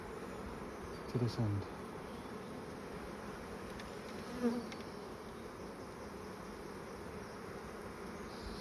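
Honey bees in an open hive on a frame with some honey and worker brood hum in a steady, soft drone that runs throughout, with a couple of brief louder buzzes as individual bees pass close.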